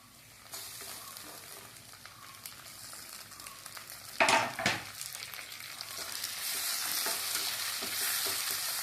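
Tomatoes frying in a pan after onions, a steady sizzle with stirring scrapes throughout and a loud burst of spatter and clatter midway, then a brighter, fuller hiss as cooking continues.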